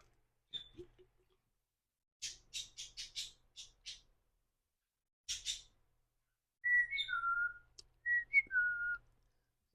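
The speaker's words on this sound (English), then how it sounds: "Bird is going to serenade us." A pet bird whistles and squawks in short, scattered bursts in a quiet kitchen, some notes choppy and rapid, others clear sliding whistles, with long silent gaps between them.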